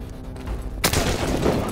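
A loud, sudden sniper shot in Call of Duty: Advanced Warfare crashes in after a low, quiet stretch and rolls on as a heavy, roaring rumble until the end.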